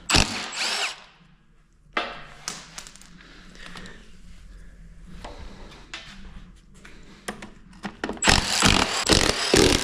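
A power tool, likely an impact driver, runs on the main housing bolts of a worn BorgWarner 1356 transfer case during teardown, with loud whirring bursts at the start and end and quieter metallic clinks and handling noises between.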